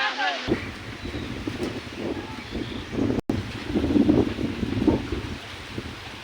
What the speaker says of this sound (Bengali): বিশাল বাতাস হচ্ছে